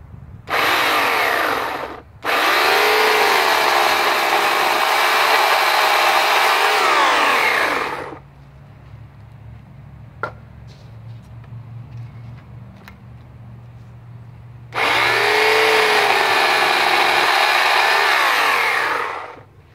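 A Harbor Freight Portland electric chainsaw with a 9 amp motor cutting wood: three loud, close whining bursts of motor and chain, the longest about six seconds, separated by a quiet stretch of low background hum.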